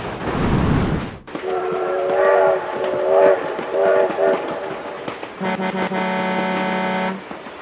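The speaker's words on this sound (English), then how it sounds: "Oh my god, train!" A train passes in a truck crash simulation video game. A rumble and sustained whistle tones are followed by a loud, steady horn blast near the end, with no talk.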